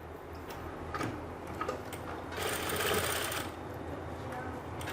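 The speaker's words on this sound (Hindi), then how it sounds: "जब यहाँ से आप सिलाई की शुरुआत करो" Sewing machine stitching the shoulder seam of an angrakha-style umbrella kurti, making a quiet rapid mechanical whir that swells briefly in the middle, with a few light clicks in a quiet room.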